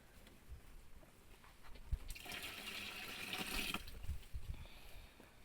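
An ash infusion is poured through a sieve into a garden spray mixture for roses and tomatoes. A soft, steady liquid pour swells for about two seconds in the middle, with faint handling noises before and after.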